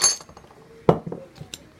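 Light metallic clinks of a teaspoon against a dish, a few sharp taps scattered across a quiet moment, fairly close.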